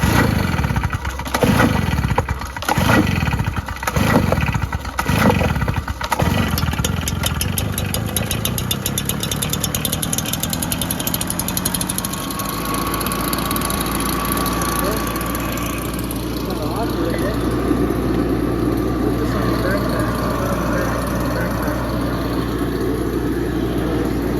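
A STIHL BR-400 gas backpack leaf blower is started with several rhythmic pull-cord bursts, then its engine catches and runs steadily at a loud, rough idle with a persistent high whine.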